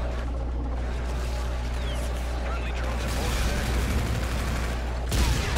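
Gunfire rattles continuously through Call of Duty: Infinite Warfare multiplayer action, with a dense stream of shots that grows heavier toward the end, heard alongside other in-game noise.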